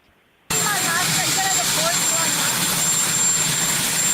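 An airplane flies overhead, a loud steady engine roar that starts abruptly and holds for several seconds, with a voice talking underneath.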